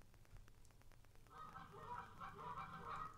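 Recorded geese honking, a faint flock calling with overlapping nasal honks that build and continue to the end over a low background.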